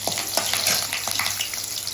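Oil sizzles steadily in a pan while village-style small ayirai fish gravy is being cooked, a close, continuous frying crackle with no voices.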